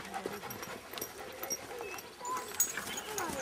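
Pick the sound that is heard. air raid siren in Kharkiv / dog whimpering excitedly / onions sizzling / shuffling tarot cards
dog whimpering excitedly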